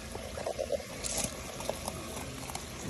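Water trickling and draining from a Dutch bucket hydroponic planter, a faint, steady bubbling and gurgling flow with small splashes.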